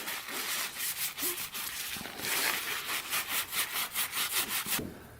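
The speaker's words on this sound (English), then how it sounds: "we'll clean out the inside of the flywheel here quick too" Inside of a Polaris Predator 500cc quad engine flywheel being cleaned out, a close, loud rhythmic scrubbing and rasping in quick regular strokes, with a brief pause midway and no speech.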